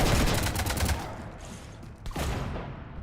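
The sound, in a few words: gunfire shooting up a ship in video game Mass Effect 3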